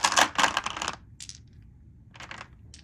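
Eight dice rolled for a board wargame clatter in quick bursts: two loud rattling tumbles close together, then two shorter, fainter clicks of dice settling, with no voices.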